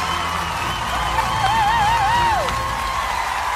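A singing competition grand final crowd roars with dense applause and cheering, loud and continuous, with a wavering whoop soaring above the clapping.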